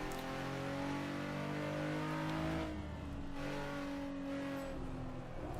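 A GT-style car engine revs in the Assetto Corsa racing game, a steady high drone climbing and then dropping off as the throttle lifts, loud and continuous with no voices.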